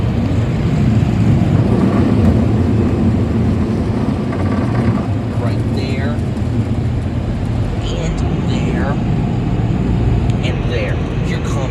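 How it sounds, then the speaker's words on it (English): Simoniz dryers blow inside a car wash tunnel in Vails Gate, NY, making a loud, steady, broadband rushing roar that runs throughout, while someone talks over it and a few higher whines come and go. "And here come the dryers. And these are Simoniz dryers."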